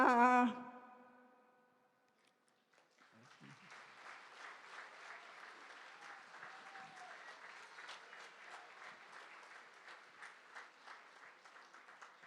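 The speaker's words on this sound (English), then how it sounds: "Once again, everyone, a huge round of applause for Ramdai Khelawan for such a beautiful Bidesiya." Applause from an audience at a Girmit Remembrance Day event after a Bidesiya folk song, starting a few seconds in after a sung note fades; steady, moderately distant clapping continues to the end.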